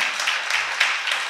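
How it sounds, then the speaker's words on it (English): A church congregation claps hands in praise during a service, with a brief, steady patter of crowd applause at moderate loudness. "can we give the Lord a hand clap of praise?"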